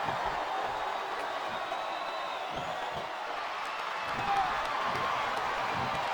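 Wrestling arena crowd in WWE SmackDown vs. Raw 2007 chanting and roaring as a continuous, diffuse wash of many voices with scattered claps, steady and moderately loud throughout.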